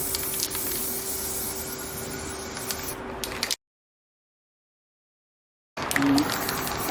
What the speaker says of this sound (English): I got maybe half a spray can left.